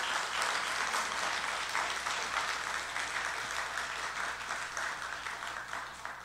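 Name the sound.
audience applause for the children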